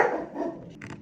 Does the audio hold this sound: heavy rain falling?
no